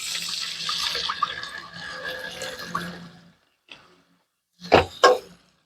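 Water poured into a hot cooking pan of fried spices for sayur bobor, a steady pouring rush for about three seconds, then a couple of short clinks and splashes after a pause.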